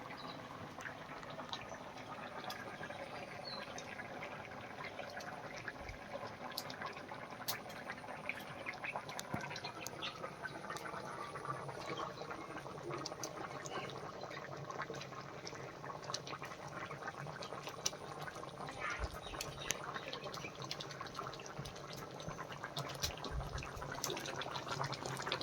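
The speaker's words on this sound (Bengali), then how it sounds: "তরকারি ফুটে গেছে, এবার মাছ দিয়ে দিচ্ছি।" Curry bubbling in a pot on the stove before fish goes in, a faint, continuous simmer of small pops and crackles with scattered sharper ticks, steady throughout with no talk.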